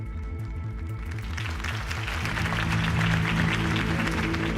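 A crowd applauds steadily in a Batman video game, the clapping swelling louder as it continues, with a low musical drone underneath.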